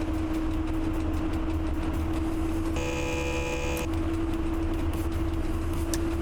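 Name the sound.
diesel locomotive running in Train Driver 2 video game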